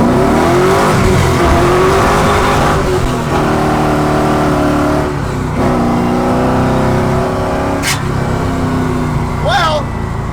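A freshly repaired car pulls hard from first through third gear: a loud, close engine roar climbs in pitch, dips briefly at each shift, and ends with a short tire squeal.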